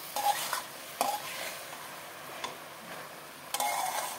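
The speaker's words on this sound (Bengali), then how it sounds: "একটু নাড়াচাড়া করে আমি ঢাকনা দিয়ে সেদ্ধ হতে দেবো।" Pumpkin greens are stirred in a pan with salt and sugar, giving a few scattered scrapes and clacks of the utensil over a soft, faint sizzle, with no talking.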